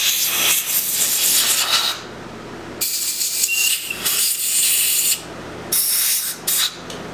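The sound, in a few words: compressed air blowing on motorcycle carburetor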